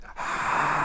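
A constricted-throat ujjayi breath, a steady hissing airflow drawn through the back of the nose and throat, rising after a brief quiet start and holding close and even with no talk.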